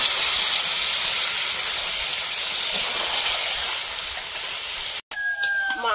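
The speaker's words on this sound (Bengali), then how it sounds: "মাংসটা ঘন ঘন ঢাকা দিয়ে ভালো করে কষিয়ে নেব।" Chicken pieces sizzling in a pan with green chilli, ginger and garlic paste, a steady loud frying hiss throughout, briefly cut off near the end before some clinks.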